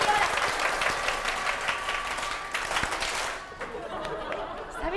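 Enthusiastic audience applause fills the room at a live talk show recording in Koriyama, Japan, sustained clapping with some chatter and laughter, then fading toward the end.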